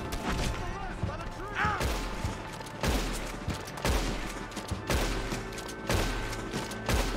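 Gunfire in the Red Dead Redemption 2 video game, fired in repeated bursts of sharp shots spaced about a second apart, loud and close, with voices talking in between.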